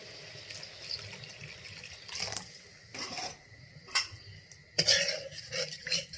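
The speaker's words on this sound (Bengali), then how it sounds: "এবার আমি জল দেবো।" Water poured into a pan of mustard tilapia curry as it simmers: a few short splashing bursts over a low cooking hiss, close and moderately loud, with light clinks of a utensil against the pan.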